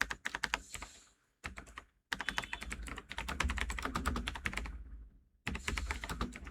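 Typing a prompt on a computer keyboard: close, quick runs of keystrokes in several bursts separated by brief pauses, fairly quiet overall, with no talking.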